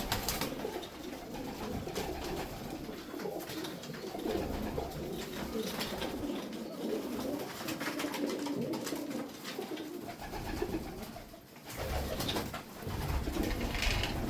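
Ankara white flight pigeons coo steadily throughout, a dense chorus of soft, throaty calls close by with a constant background murmur and no talking.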